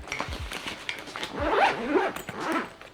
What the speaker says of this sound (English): Zips up nice and smoothly.